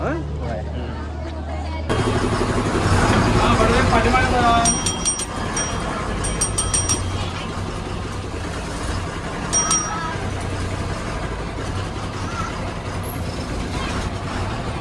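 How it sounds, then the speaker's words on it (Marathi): A decorated MSRTC Lalpari state transport bus arrives, its engine rumbling close as it pulls in, with sharp bursts of air-brake hiss in repeated spurts and someone talking over the noise. "तर मंडळी आपली गाडी इलेली आहे"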